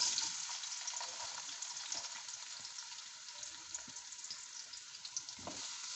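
Onions sizzling and frying in ghee in a kadai, a steady soft crackle held at close range throughout, with occasional brief stirring knocks.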